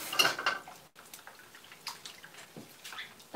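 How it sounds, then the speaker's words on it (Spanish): Rice is rinsed in cold water in a home kitchen, giving soft close splashes and drips in short uneven bursts, loudest at the start, with no talk. "Con agua fría lo lavo yo el arroz."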